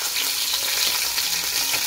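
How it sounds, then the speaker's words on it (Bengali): Lentil dumplings (bori) sizzling as they go into a stem and potato curry cooked with tomato paste and five-spice, a steady close crackle with no talking. "এবার আমি বড়িটা দিয়ে দিচ্ছি"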